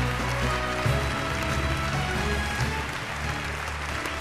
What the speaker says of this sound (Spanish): el gran aplauso para todos ustedes